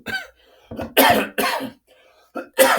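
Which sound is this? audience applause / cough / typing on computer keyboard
cough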